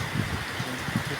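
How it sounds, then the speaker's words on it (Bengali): Rain falls steadily outdoors near a garden in Nilphamari, a continuous dense patter without breaks, close and fairly loud, with no talking. "আমরা দেখতে পাচ্ছি আল্লাহ খুব সুন্দর বৃষ্টি দিচ্ছে"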